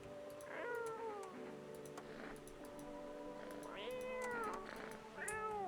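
Several loud, drawn-out cat meows from a video game, rising and falling in pitch, sounding in separate bursts over a steady background hum with faint ticking.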